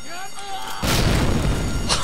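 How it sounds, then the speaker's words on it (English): A grenade explodes in the video game Medal of Honor Allied Assault: a sudden, loud, close blast bursts in partway through, then rumbles on as a dense, roaring decay. "I chucked a grenade at the wrong time so it exploded in my face"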